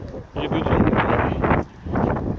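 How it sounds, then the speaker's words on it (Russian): Gusty wind buffets the microphone in heavy rumbling bursts, dropping briefly between gusts. "Дует сильный ветер."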